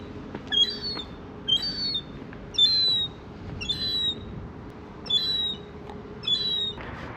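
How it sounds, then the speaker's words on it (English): A young gray seagull screams repeatedly, six shrill, evenly spaced calls at moderate distance over a low steady outdoor rumble, with no talking. "I believe that one screaming was a young seagull."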